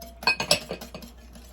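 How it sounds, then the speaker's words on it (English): Whisk clinking against a bowl while mixing sugar and vanilla, a quick series of light metallic taps close by, with no talking. "give it a little whisk"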